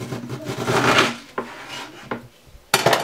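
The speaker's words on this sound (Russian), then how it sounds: "Каждую четвертинку капусты разрезаем еще пополам" Knife slicing a quarter of cabbage in half for a vegan schnitzel, a crisp rasping cut followed by a few sharp taps of the blade against a cutting board, close and alone.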